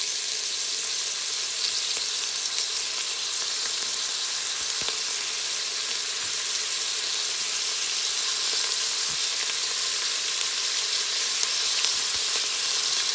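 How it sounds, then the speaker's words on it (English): Ingredients for a ginger and carrot soup cooking in a pot on the stove give a steady, even sizzle and hiss that runs without a break, close and fairly loud, with no talking. "I'm gonna cook this on the stove about 2 minutes"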